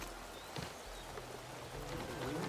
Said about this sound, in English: Don't mind the rain.